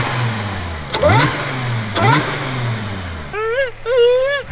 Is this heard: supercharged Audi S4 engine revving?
yes